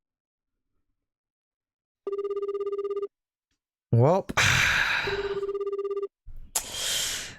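A phone line rings back while a call is placed to a terrace house in Osaka, with two bursts of fast pulsing electronic beeps. A voice and loud rushing noise break in between them and after.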